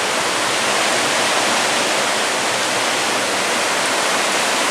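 Hurricane Ian floodwater rushing past outdoors, a loud, steady, hissing wash of moving water filling the whole stretch without pause.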